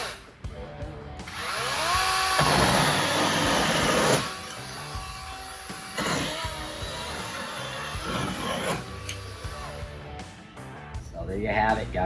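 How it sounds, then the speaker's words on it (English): A Dewalt 20V cordless 12-inch chainsaw cuts through wood, its loud buzzing motor rising and dropping in several bursts as the chain bites and frees up, with near-constant high whine. "Dewalt 20-volt chainsaw. Even when your table's way too light, it cuts so well, it rips right through it."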